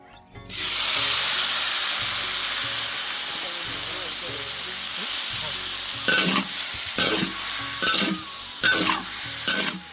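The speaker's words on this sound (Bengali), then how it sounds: "আমরা সিদ্ধ করে নেওয়া কাঁঠালটা আমরা তেলে ভেজে নেব" Boiled young jackfruit frying in oil in a village kitchen, a loud continuous sizzle with repeated sharp scraping strokes of a spatula stirring through the pan toward the end.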